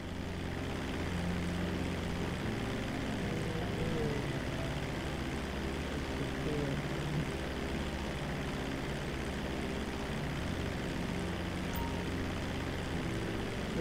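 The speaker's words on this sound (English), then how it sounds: "Land the plane." Airplane engine in the video game GTA Online, a steady propeller drone with a sustained low hum and faint shifting tones, constant and moderately loud for the whole stretch, no talking.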